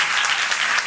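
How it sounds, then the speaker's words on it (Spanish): Congregation in church gives a strong, dense round of applause, a loud steady wash of many hands clapping with no pauses. "a strong applause"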